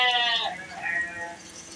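Sheep in a large flock being bathed bleat out, one strong wavering cry followed by a softer one, close by against a steady background of farm noise.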